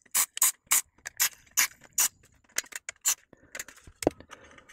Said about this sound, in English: Right, this is contact cleaner.